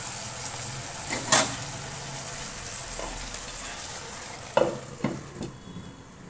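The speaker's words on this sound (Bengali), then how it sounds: "চলো ভাজাটা হোক" Green chilies fry in a pan with a constant low sizzle, broken by a few sharp clinks and scrapes of a spatula stirring, close by and moderately loud.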